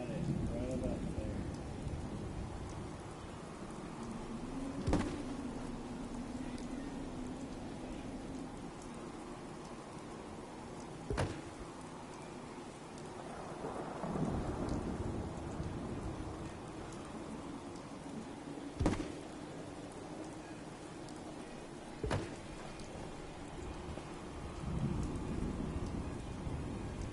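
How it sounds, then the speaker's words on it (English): Steady rain from the Fallout 4 game world with several sharp thunder cracks and rolling rumbles spaced through the storm, while a voice talks quietly over it. "I wait for it to be sunny out and then it rains"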